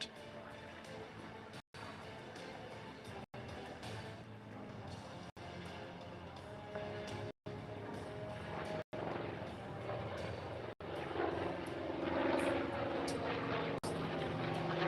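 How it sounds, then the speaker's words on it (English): A Douglas A-1 Skyraider, its Wright R-3350 radial engine producing about 2,700 horsepower, makes a topside pass at an airshow. A steady propeller drone swells louder toward the end, with brief dropouts along the way. "Take a look at this topside pass of this most impressive air support aircraft."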